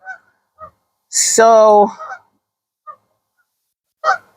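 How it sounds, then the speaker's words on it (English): Geese honking outdoors in Maryland: one loud, drawn-out honk in the middle, framed by several short, fainter calls before and after. "You hear the geese?"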